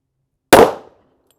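A single loud, close gunshot from a 1911 pistol in .45 Super firing Underwood 255 grain loads through a factory ported barrel, a sharp crack followed by a short decaying blast.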